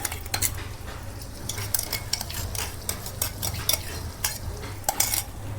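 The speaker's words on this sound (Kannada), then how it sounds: "ನಾನು ಮಾಡಿದಂಥ ಟೊಮೆಟೊಗಳ ಹಾಕ್ಕೊತಾ ಇದ್ದೀನಿ" Tomatoes go into hot tempering with coriander in a pan and get stirred, giving repeated scraping and clinking strokes over a steady low hum and soft frying noise, with no voices.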